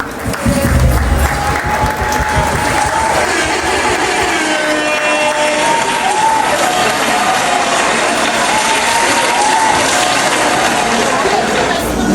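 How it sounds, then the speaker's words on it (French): A gala audience applauds committee members at an association's evening banquet, a broad steady wash of clapping lasting throughout, mixed with crowd noise and faint tonal sounds. "À tous ces responsables et à tous les membres des comités, on peut applaudir pour eux, s'il vous plaît"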